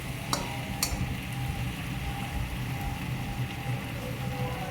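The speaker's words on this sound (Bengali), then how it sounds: "ভালো করে নাড়াচাড়া করতেই থাকবো। মাংস যত কষানো যাবে, ভালোভাবে নাড়াচাড়া করে কষানো যাবে, তত মাংসটা টেস্ট লাগে।" Meat braising in a pot gives off a steady, close, crackling sizzle, broken early by a couple of sharp knocks from the stirring utensil.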